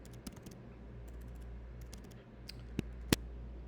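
Soft, irregular clicks of computer keyboard keys being typed while writing code, quiet and close, with a few sharper keystrokes near the end over a low steady background hum.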